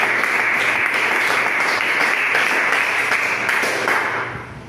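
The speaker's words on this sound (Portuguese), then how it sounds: "As palmas do Senhor Jesus." A church congregation claps in sustained, dense applause that fills the space evenly, then tapers off in the final moments.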